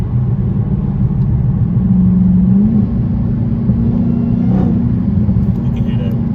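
Dodge SRT Hellcat engine in manual mode downshifting from eighth gear: a steady, deep rumble with two brief rises in revs, heard close from inside the car.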